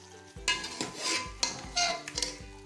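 A metal spoon stirs and scrapes 1 kg of chicken being browned in a karahi pan for Karachi-style karahi chicken, rhythmic close clinks and scrapes over a steady frying sizzle with no talking.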